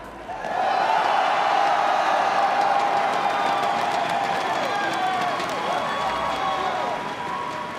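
A large crowd at an esports world finals applauds and cheers steadily, with whoops rising over sustained clapping that holds for several seconds before easing slightly.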